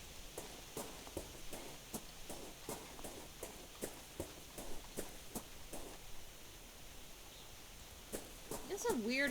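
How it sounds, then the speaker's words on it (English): Footsteps in a video game, a regular series of crisp steps on a hard surface that sound close, with a voice briefly heard near the end. "I love the aesthetic of like actual footstep sounds on different things in video games"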